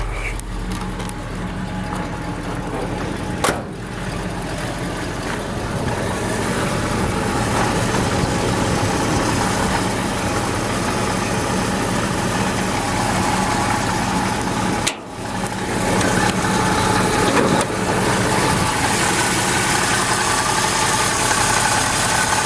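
Rebuilt 1977 Ford F350 pickup engine idling after start-up with a fresh tune-up and small exhaust leaks at bent down pipes, a loud, close, steady rumble with an even throb and a couple of brief knocks.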